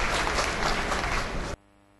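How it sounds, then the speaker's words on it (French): An audience applauds loudly at a French-language televised news event in Gabon, dense clapping sustained for about a second and a half before cutting off abruptly into near silence. "merci pour les applaudissements"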